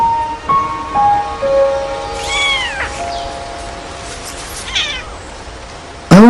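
Several wild kittens meow in high, rising and falling cries, overlapping and close by, greeting their returning mother. A sharp, louder cry cuts in at the very end.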